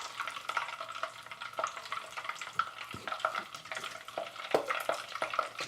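Pork pieces for Guo Bao Rou fry in hot oil, a close, busy sizzle broken by repeated stirring clatters and scrapes, with no talk.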